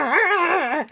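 A toy dog gives a high, wavering whine-like cry, a single continuous warbling sound lasting under a second, close and loud with nothing else heard.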